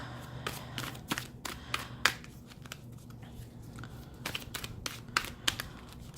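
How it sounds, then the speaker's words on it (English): Tarot cards being shuffled, a run of crisp riffling snaps and taps in irregular bursts, close and fairly quiet with no talking. "come on, shuffle for me"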